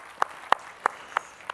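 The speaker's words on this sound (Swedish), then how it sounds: "Du får en varm applåd ifrån Stockholm" Applause at an autumn meeting in Stockholm comes through faintly as five sparse, evenly spaced claps over a quiet background.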